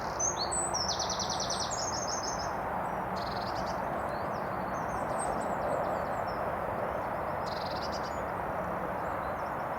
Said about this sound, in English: More bird song down here than there was in Epping Forest.